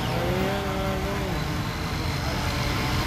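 A small water-cooled RC speedboat motor runs on a pond at Quezon City Hall, a steady loud buzzing whine with a pitch that sags slightly early on, close to the microphone throughout.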